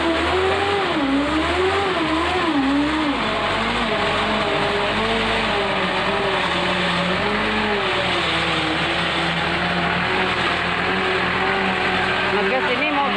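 A car drives along a rough village road between Kp. Cicae and Desa Kadubadak, its engine loud and close, revving up and down repeatedly over a continuous driving rumble.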